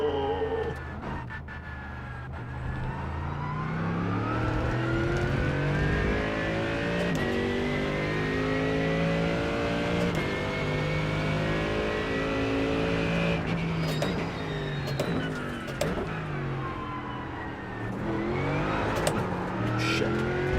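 A GT3 race car roars through Eau Rouge and Raidillon at Spa. The engine climbs in pitch through the gears with upshift breaks, heard close and loud, with no talking.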